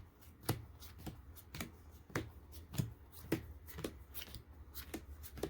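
A Yu-Gi-Oh card deck is shuffled by hand in quiet, evenly spaced riffles and snaps, about a dozen short crisp bursts close by with soft rustling between.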